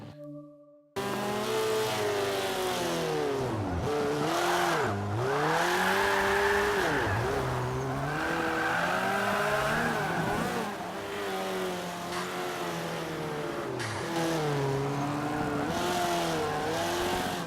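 A race car engine in Forza 5 revs hard and climbs through gears, dipping and rising repeatedly as it brakes and accelerates around a hairpin against an Audi, loud and continuous with no talking.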